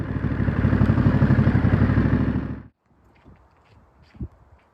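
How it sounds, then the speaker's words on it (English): A 2023 Ducati Monster 937 SP motorcycle engine runs loud and close with a rough, throbbing idle, then cuts off abruptly, leaving faint clatter and light footsteps. "So here is the Ducati Monster 937 SP. Very beautiful machine."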